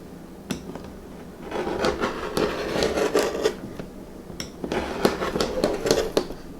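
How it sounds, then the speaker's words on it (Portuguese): A rotary cutter trims fabric along a ruler on a cutting mat, giving a series of close, scraping rub strokes in two bursts separated by a brief pause, with no talking. "Venho com o meu cortador circular."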